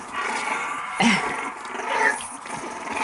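Recorded dog and puppy sound effects play back from a CD: low growls, yips and whimpers in a short busy burst, fairly close and continuous.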